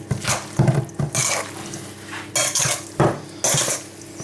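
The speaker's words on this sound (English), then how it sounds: "we're going to add the rest of the cheese. Stir it in nicely." Spoon stirring grated cheese into Käsknöpfle in a pot, several close bursts of metal scraping and clinking against the pot in an irregular rhythm.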